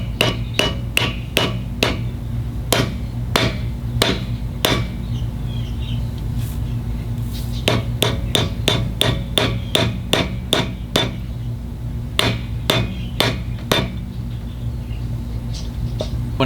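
A rubber mallet hammers a dust cap onto a trailer hub, delivering rapid bursts of sharp close knocks in uneven runs with short pauses, over a constant low background hum.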